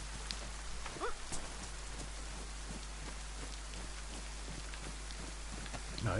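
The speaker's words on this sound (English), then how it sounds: "Now, let's get back in that rain." Steady rain from the DayZ video game falls as a dense, even patter throughout, with a few faint brief knocks and no talk.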